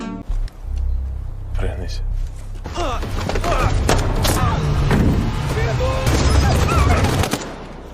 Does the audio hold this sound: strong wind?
no